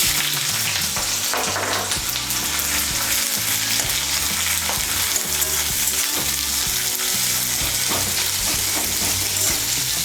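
Chopped onion frying in hot oil with black cumin and green chilli for a Bengali egg and poppy seed chorchori, making a steady, loud, close sizzle throughout with no one talking.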